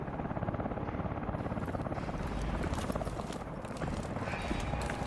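A helicopter in the video game Call of Duty: Advanced Warfare beats with a steady rapid rotor chop under dense combat noise, fairly faint overall.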